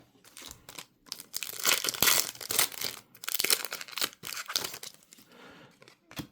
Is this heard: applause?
no